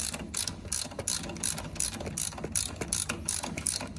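A ratchet wrench loosening a nut on a 4x4 off-road truck, rapid rhythmic clicking bursts repeating steadily, close and fairly loud with no talking.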